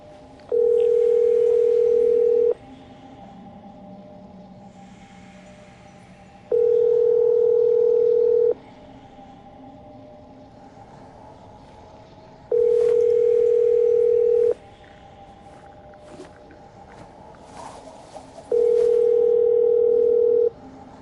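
A steady phone dial tone in the game Genshin Impact repeats four times, each tone about two seconds long with about four seconds of quiet between them, clear and even over a faint background hum.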